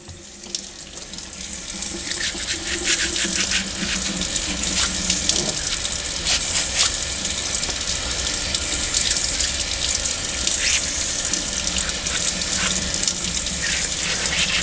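Water from a tap runs steadily and loudly into a sink while something is scrubbed out with a soapy brush to clear stale beer residue. There is no talking.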